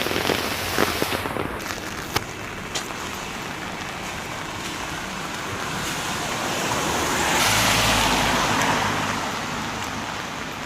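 Steady rain hisses on a London street near Heathrow while someone walks through it, a broad wash of noise with passing traffic swelling louder near the end and a few sharp taps early on.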